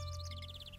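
Sparrows chirp in a video game, giving a quick run of high, faint tweets over a steady low hum.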